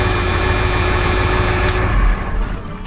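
An old Ford F-Series truck's big-displacement engine roars close by in a loud, steady, rough rumble, then eases off near the end.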